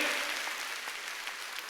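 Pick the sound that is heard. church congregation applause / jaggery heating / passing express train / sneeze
church congregation applause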